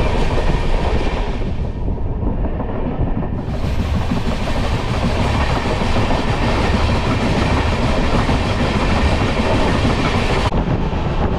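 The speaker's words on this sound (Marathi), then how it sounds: "आणि फायनली ट्रेन आपली सुटली आणि पुढचा प्रवास आपला चालू झाला आहे मनालीचा." The Paschim Express passenger train, running from Mumbai Central toward Chandigarh, rumbles along the tracks from onboard, with loud continuous clickety-clack and wheel noise throughout.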